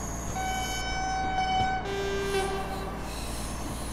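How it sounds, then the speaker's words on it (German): A train signal horn in Train Sim World 2 on the Tharandt Ramp line near Dresden sounds in several steady tonal blasts, a short call followed by a longer, lower note, loud over a constant engine rumble. "Wie klingt das Signalhorn?"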